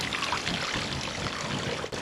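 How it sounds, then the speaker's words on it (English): Water runs steadily from a roadside fountain, a close, continuous splashing trickle with no voices, cutting off briefly just before the end. "I saw there was a marker here for a water fountain"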